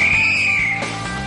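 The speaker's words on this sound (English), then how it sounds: "And what makes a whistle whistle?" A whistle blows with a shrill, steady high tone lasting about a second, dipping slightly near the end, over a busy background.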